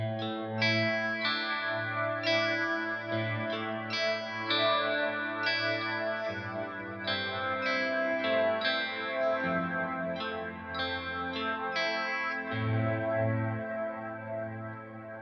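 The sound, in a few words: Walrus Audio Ambient pedal LUSH mode reverb on guitar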